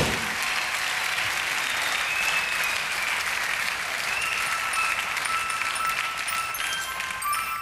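Sustained applause from a television studio audience during a German late-night talk show, steady, dense and full throughout with no talk over it.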